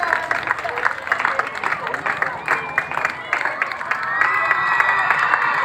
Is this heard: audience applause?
yes